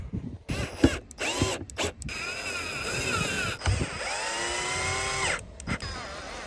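Cordless power drill driving screws back into the door panel trim of a Ford Econoline van, close up, in several short whirring runs that rise and fall in pitch, separated by brief pauses and clicks.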